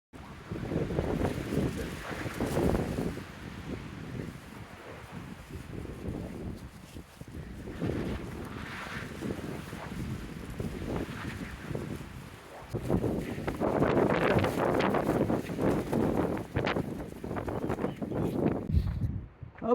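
Strong morning wind gusts at a Pacific Crest Trail campsite near Tehachapi batter the microphone in loud, uneven surges, rising and falling over about twenty seconds.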